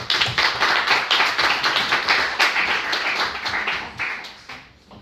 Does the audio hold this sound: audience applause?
yes